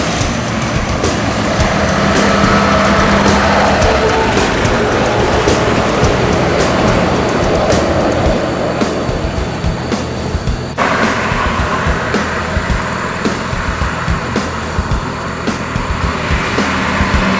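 A heavy PO PAS intercity bus rumbles past with broad roaring road noise that shifts abruptly partway through, loud and close.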